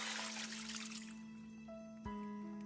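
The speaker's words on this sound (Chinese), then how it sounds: "然后把腰花倒出控水" Water trickling and pouring out as washed pork kidneys are tipped to drain, a soft liquid splash fading into a faint dribble with a hum in the background.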